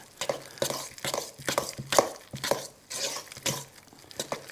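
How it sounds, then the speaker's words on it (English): Jalapeño ball mixture stirred in a bowl makes a rhythmic series of scraping, clinking strokes, about a dozen in quick succession, close and clear with no talk. "Give them all a good mix up."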